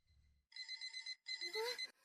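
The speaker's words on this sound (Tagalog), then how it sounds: "Sino ang hindi nagpatay ng alarm ang ingay?" An electronic alarm rings in two short bursts of shrill, rapid beeping, separated by a brief pause, fairly quiet and close.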